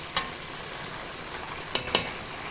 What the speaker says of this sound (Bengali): ভালো করে উল্টে পুল্টে ভেজে নিব।